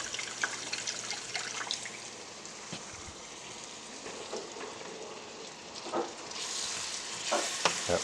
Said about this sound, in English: now I'm integrating the rest of the pan, and so that liquid will deglaze any of